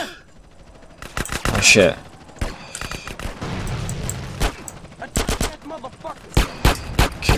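Rapid bursts of gunfire in Grand Theft Auto: San Andreas, sharp loud shots in clusters with a quick run near the end, while a man swears over the shooting.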